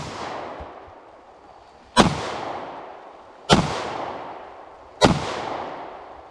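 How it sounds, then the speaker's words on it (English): Springfield XD-S Mod 2 pistol, caked in mud, firing Speer Gold Dot rounds outdoors: three sharp, loud reports roughly 1.5 seconds apart, each with a long decaying echo, and no talking. "Cycled all 4 rounds, the Spear Gold Dot and locked back."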